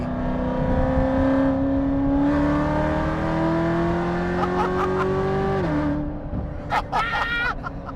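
A 2023 Corvette C8 engine revs loudly and steadily, pitch climbing for several seconds, then drops sharply as it shifts, followed by quieter idling and brief clicks.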